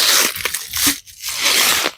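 A Fiskars machete axe chopping wood outdoors, with two loud close splitting cracks and crunches about a second apart and no talk.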